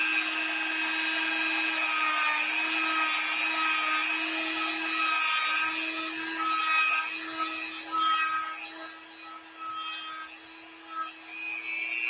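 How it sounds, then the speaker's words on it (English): Sanding the inside edge of a P-47 model airplane gives a continuous abrasive whir under a steady high-pitched motor tone, loud and close, lasting throughout and easing near the end. "So, I need to sand this over"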